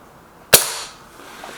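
A single sharp shot from a Lee Enfield Sentry air gun fired at a target, close and loud, with a short decaying tail and no talk.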